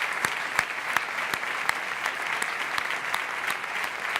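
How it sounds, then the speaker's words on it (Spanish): Audience applause at the Princesa de Girona Foundation awards ceremony, a dense, steady wash of clapping from a large crowd with sharper individual claps recurring throughout. "Le mandamos un aplauso desde aquí."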